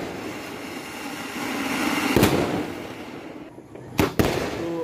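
Diwali sky shot fireworks bursting overhead, a steady crackling hiss broken by a loud boom near two seconds and a sharp double bang near four seconds, outdoors with no talking.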